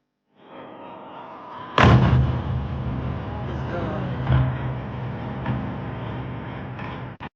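A dull rumble builds, then a heavy blast booms as a drone strikes a warehouse, followed by a long roaring tail and a smaller thump partway through; a voice speaks over it.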